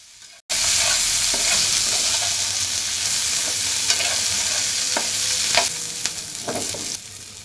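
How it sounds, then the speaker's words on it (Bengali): Stalks, green chillies and onions fry and sizzle loudly in a pan, a steady hiss with occasional stirring scrapes and clinks, close and continuous without any talk. "মরিচ, পেঁয়াজগুলোকে ভেজে নেব।"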